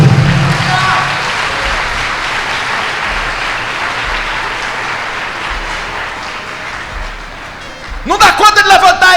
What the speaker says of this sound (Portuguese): Dá uma salva de palmas para Jesus aí.